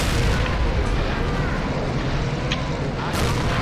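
Panzerwerfer rocket artillery fires in the Men of War: Assault Squad 2 battle game, a dense, loud roar of launches and blasts that fills the whole stretch with no letup.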